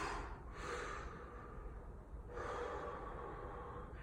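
Slow breaths drawn in and let out while holding a hamstring stretch, two long breath cycles, close and fairly quiet with no talking.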